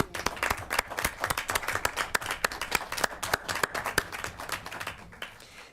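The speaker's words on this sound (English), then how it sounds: "Let's applaud our city council member," Small city council chamber audience clapping for a council member, sparse individual claps ringing out rhythmically at close range, tapering off near the end.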